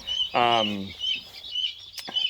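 A heritage-breed baby chick gives one brief, clear, rising call. Fainter peeps and small chirps follow over a quiet background.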